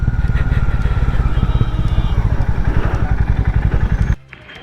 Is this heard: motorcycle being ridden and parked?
yes